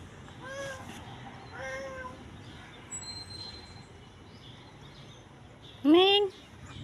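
Several cat meows: two soft ones early, then a louder, drawn-out meow near the end, over a steady background hiss.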